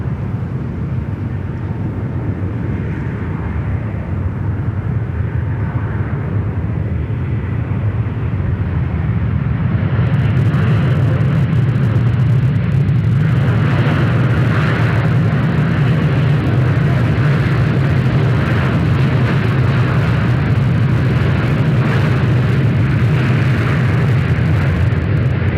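An Asiana Airlines jet takes off from runway 34 right at Sydney Airport, a loud, continuous roaring rumble that swells partway through and stays strong to the end.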